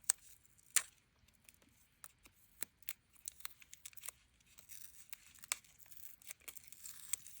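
Postage sticker paper being torn and cut at a crafting table, a string of short, crisp ripping and snipping bursts scattered through the quiet, close and fairly soft, with no talking.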